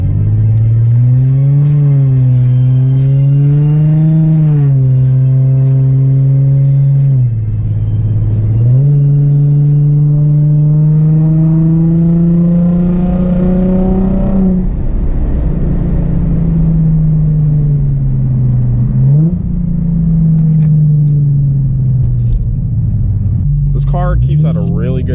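The Infiniti G35 engine, just back from timing work and gasket replacement, hums steadily while driving, its pitch rising through the gears with brief dips at the shifts. The sound is loud and continuous, and a person talks over it.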